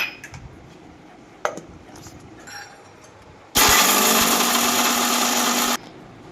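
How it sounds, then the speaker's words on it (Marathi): Sugar and cardamom are ground finely in an electric grinder: a few light clinks and taps, then a loud, steady whirring burst of about two seconds that stops abruptly. "साखर घ्यायची आहे आपल्याला सर्वात आधी, त्यामध्ये आपल्याला वेलची घालून आपल्याला बारीक वाटून घ्यायचं आहे"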